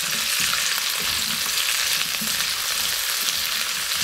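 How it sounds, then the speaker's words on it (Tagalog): Tofu, spam and chili, with celery, sizzle and crackle steadily in a hot pan while being stirred, a loud continuous frying hiss with soft scraping underneath and no voices. "Stir lang po natin itong mga ito."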